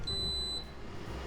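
An Instant Pot pressure cooker sounds a single short, high electronic beep when cooking starts. The tone is clean, lasts about half a second and fades into a quiet kitchen.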